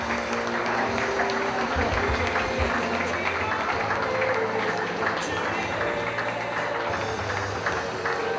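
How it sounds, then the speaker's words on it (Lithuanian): A basketball crowd applauds the Vilnius Kibirkštis women's team with loud, sustained clapping and cheering. Someone speaks over it through an arena PA, and low booming thuds are mixed in. "Jūsų aplodismentai Vilniaus kibirkštės krepšininkėms"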